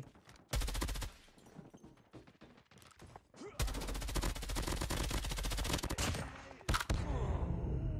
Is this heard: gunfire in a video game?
yes